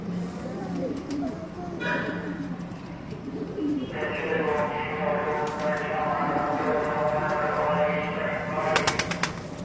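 Female Teddy-breed pigeons cooing at a pigeon keeper's loft in Karachi, a soft rolling coo running steadily beneath a man's ongoing speech, with some rustling and flapping nearby.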